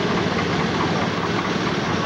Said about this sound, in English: here's a working tractor coming up here